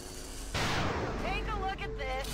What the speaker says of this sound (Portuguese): Tiro de precisão no shield bearer.